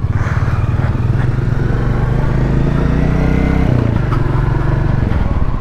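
Royal Enfield Classic 350 motorcycle on a group ride, its engine thumping steadily up close with a loud, even pulse that shifts pitch briefly partway through.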